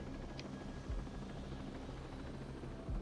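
A helicopter in the tactical shooter game Ghost Recon Breakpoint, a steady low rotor thump and engine drone at moderate volume, heard alone without talking.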